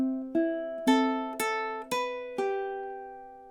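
Ukulele picking measure 19 of a song: five clear plucked notes in a steady, unhurried rhythm, the last one left to ring and fade, close and alone with no voices.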